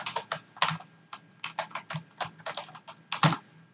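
Rapid, uneven keystrokes on a computer keyboard tapping out short bursts and pauses, close and clear with no voices.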